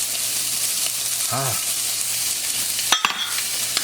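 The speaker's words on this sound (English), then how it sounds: "Stir the seasonings down inside of here." Spoon stirring seasonings into a pot of homemade gumbo, a soft steady sizzle and scraping with a brief clink near the end, close and alone.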